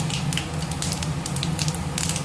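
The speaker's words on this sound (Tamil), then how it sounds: "எண்ணெய் காஞ்சிச்சு கடுகு உளுத்தம்பருப்பு கொஞ்சமாக சீரகம் பார்த்திங்கன்னா நான் ஒரு காஞ்ச மிளகாயை கிள்ளி சேர்த்துக்கிறேன்" Mustard seeds, urad dal, cumin and a torn dried red chili sizzle and crackle in hot oil, a steady close frying hiss with scattered sharp pops throughout.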